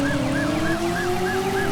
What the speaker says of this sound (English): Here he comes in his blocky police car.